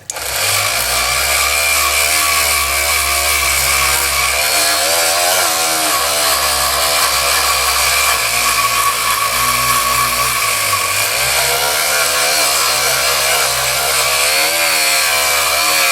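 A power sander with 180-grit paper works the loading port of a Stoeger M3000 shotgun, a loud, steady whirring grind with a slight dip in pitch partway through.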